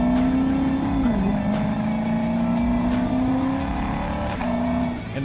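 A 2024 Lexus IS 500 engine fitted with a Borla axle-back exhaust holds a steady, deep growl at a constant loud level for about five seconds, with a slight dip and a faint pass-by-like swell near the end.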